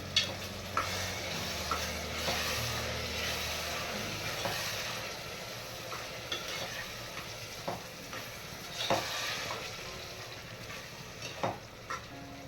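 Prawn biryani mixture being stirred in a pan, a steady sizzling hiss with soft scraping and occasional clicks of the spoon, continuous and fairly close.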